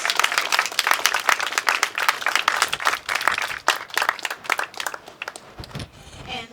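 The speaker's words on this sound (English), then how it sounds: "May I have a round of applause for Rhema Christian Ministries?" Crowd applause for a Christian ministry group, sharp overlapping claps building into a dense, steady round before thinning out and fading near the end.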